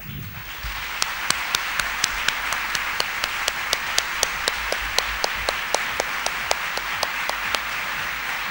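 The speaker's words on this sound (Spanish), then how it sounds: "yo les pido que ahora los aplaudamos por lo que han hecho durante toda su vida" An audience applauds panelists at a special news programme. The clapping forms a steady, even wash heard from some distance, with a few sharp, louder claps standing out at regular intervals.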